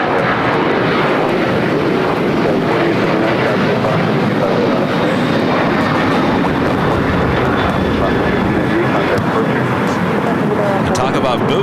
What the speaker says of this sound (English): Condor, flight 2081. Special day side takeoff on the south side coming up.